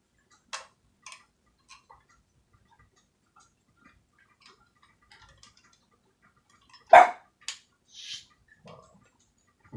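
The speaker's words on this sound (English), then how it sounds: "That dog likes barking when the film's on." A dog barks once, sharp and loud, with a couple of quieter follow-up yaps, amid scattered light ticking and clicking sounds in an otherwise quiet room.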